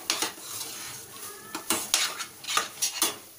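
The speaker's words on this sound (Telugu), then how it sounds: "డ్రై ఫ్రూట్స్ కూడా వేసేసుకొని బాగా మిక్స్ చేసుకొని" Annavaram-style prasadam with cardamom and dry fruits being stirred in a metal pot: irregular scraping and clinking strokes of a spoon against the pot, close and fairly clear, with no talking.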